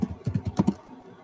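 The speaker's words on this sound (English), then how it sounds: "I hear someone typing" Someone types on a computer keyboard nearby in a quiet online meeting, about seven distinct clacking keystrokes in quick succession, then fading to near silence.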